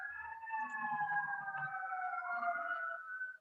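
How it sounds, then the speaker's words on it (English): Emergency vehicle sirens wail outside during a lower-back yoga session, two steady rising and falling tones sounding continuously at moderate distance, with low rumble underneath. "We've got some sirens outside."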